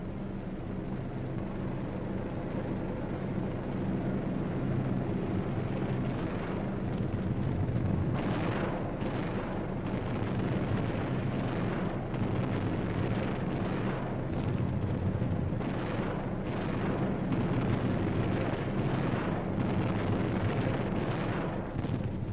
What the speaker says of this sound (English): 37 tons of bombs were dropped, causing several fires and many secondary explosions.